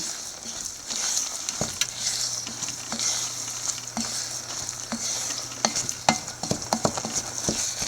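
A spoon stirs beetroot pachadi curry with ground coconut paste in a hot pan, scraping and tapping in irregular knocks over a constant soft sizzle, close by with no talking.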